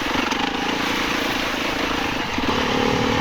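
A 2020 Beta 390 RR dirt bike engine under way on a ride, a loud, continuous buzzing drone that holds steady with a slight dip and rise in pitch near the end.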